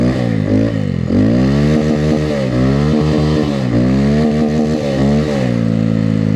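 A Honda Grom motorcycle drifts in snow, its small engine loud and close, revving up and down in repeated rising and falling surges with a few brief throttle dips.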